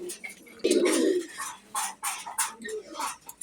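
Pigeons coo at a farm, soft low throaty calls repeated several times at close range alongside a few rustles.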